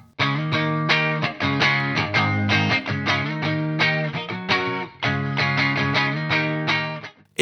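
Electric guitar with a single-coil pickup run through a Two Notes Plexi-style preamp pedal, mildly overdriven: steady loud strummed chord patterns with short pauses and brighter, thinner edges.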